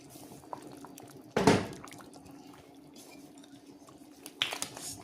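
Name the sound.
putting corn into chicken soup pot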